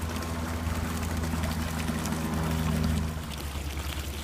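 Artesian spring well water pours steadily into a home-brewing batch for beer, a loud, full gush that eases off near the end. No voices are heard.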